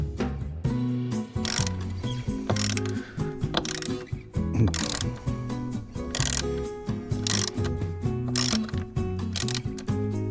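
Ratchet clicking in quick repeated bursts while re-tensioning the seat belt tensioner of a Mercedes 500SL, close and fairly loud with mechanical clatter throughout.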